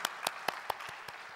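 Church congregation clapping together during a Korean worship service, a few evenly spaced claps in a steady rhythm, fairly faint and brief.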